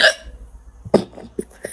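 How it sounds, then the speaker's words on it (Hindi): A woman hiccups at home after breakfast, one sharp, sudden catch of breath followed by a couple of smaller throat sounds and light rustling in a quiet room. "sorry for the Hichki"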